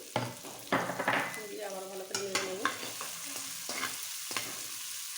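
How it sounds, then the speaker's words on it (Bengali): Slit green chillies frying in oil with chopped onion, a close sizzle with scraping stir strokes against the pan, and a brief tonal whine midway. "হালকা ব্রাউন কালার করা পর্যন্ত ভেজে নেব।"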